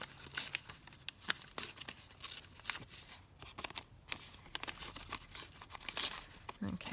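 Cardboard from recycled packaging is torn apart by hand in a series of close, rough ripping strokes, each lasting a moment, mixed with crinkling and crumpling between tears.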